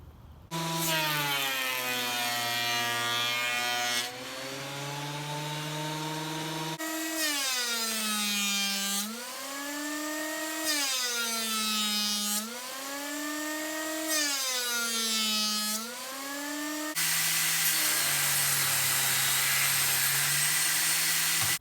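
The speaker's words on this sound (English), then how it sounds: "I planed down our little board to about 3/8 of an inch thick" A power planer cutting down a walnut board, a loud whining motor whose pitch dips and rises in repeated passes, with brief pauses between runs and a harsher burst of cutting near the end.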